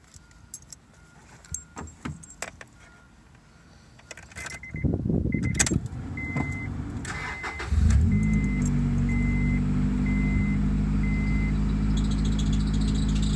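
Keys jingle and a few clicks, then a Honda Integra Type R engine cranks, catches and settles into a loud, steady idle with a repeating chime over it.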